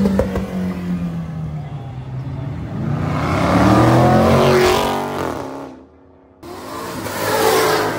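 A Ford Mustang at a cars and coffee meet revs hard and roars past nearby, its engine note rising and sweeping through a loud pass, then briefly cutting out before a second surge of revving.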